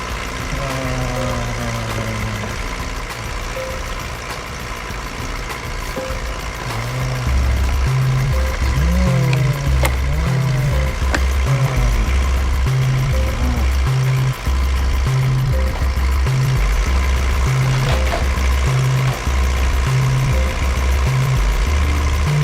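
Red toy farm tractor with a synthetic engine sound, a loud repeating chugging rumble that steps up partway through and keeps a pulsing, looped rhythm with occasional electronic chirps.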